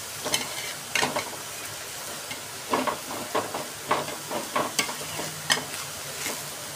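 Thalipith frying in a little oil on a pan, giving a soft steady sizzle broken by intermittent louder crackles and stirring scrapes spaced irregularly throughout.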